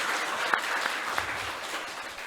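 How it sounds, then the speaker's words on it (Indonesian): Audience applause at a school election-education event, a dense, steady wash of many hands clapping at moderate distance, lasting briefly without a break. "boleh kasih tepuk tangan untuk Ibu Elfrida?"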